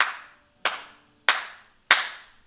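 A man claps his hands four times, slow, evenly spaced sharp cracks, each ringing out with a short echo and no talk between them.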